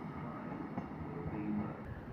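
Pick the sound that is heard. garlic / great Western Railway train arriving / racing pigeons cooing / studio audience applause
great Western Railway train arriving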